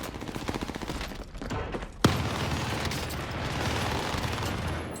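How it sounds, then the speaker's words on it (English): Rapid, sustained automatic fire from an MG42 machine gun in the Warzone video game, a dense unbroken stream of shots with a brief pause and a sharp burst near the middle before firing resumes at full pace. "Holy, this fire rate. This MG42."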